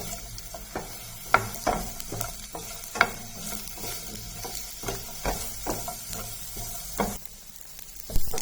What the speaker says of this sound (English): You fry the onions until it turns into pink color.